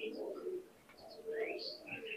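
High flyer pigeons at a Bangladeshi home loft give soft, low cooing calls, with a few brighter chirps from other birds over faint background noise.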